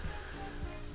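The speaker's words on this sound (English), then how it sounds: "so it's raining again" Steady rain hiss from the farming game Story of Seasons: Pioneers of Olive Town, a continuous soft wash running under faint background music for about a second.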